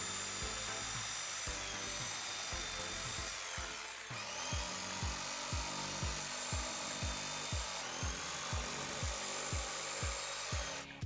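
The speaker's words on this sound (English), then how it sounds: "I chose a jigsaw blade just because I can cut straight and quickly." A jigsaw cuts wooden half rounds for a thrifted dresser, its loud, steady buzzing motor overlaid with a regular rhythm of rasping blade strokes, close up and uninterrupted apart from a brief dip near the middle.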